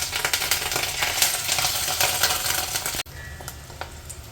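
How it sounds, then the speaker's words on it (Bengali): Fish eggs for fish egg pakoras fry in hot oil with a loud, dense crackling sizzle for about three seconds, then the sound drops sharply to a quieter, softer sizzle. "এবার আমি ভাজতে দিয়ে দেবো মাছের ডিমগুলো।"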